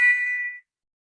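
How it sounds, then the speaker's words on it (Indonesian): An electric bell rings once as its iron hammer strikes it, giving a single bright, close metallic ding that fades out within about half a second, followed by silence. "kepala pemukul menghantam bel dan menghasilkan bunyi"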